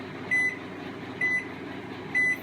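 A microwave oven runs with a pressure cooker inside, holding a steady low hum while three evenly spaced short beeps sound close by.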